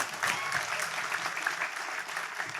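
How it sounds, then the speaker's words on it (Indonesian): A studio audience gives a round of applause for the Navy on a television program, with continuous, even clapping at moderate volume and a faint murmur of the crowd. "Tepuk tangan untuk Angkatan Laut kita ya."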